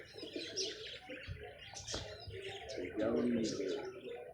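Pigeons coo and chirp in a busy loft, with faint voices and rustling around them and a louder burst of cooing near the end.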